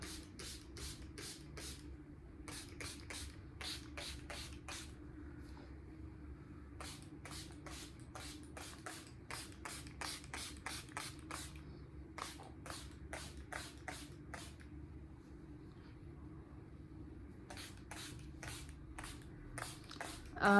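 Repeated quick hisses of a spray bottle spraying water onto curly hair, pumped in rapid bursts with short pauses between groups, close by over a low steady hum.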